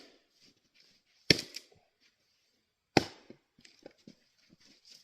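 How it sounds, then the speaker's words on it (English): A Gransfors Bruk axe swung one-handed splits firewood with two sharp, woody cracks about two seconds apart, each followed by faint splintering and small knocks in an otherwise quiet outdoor setting. "I just split that one piece of wood one-handed"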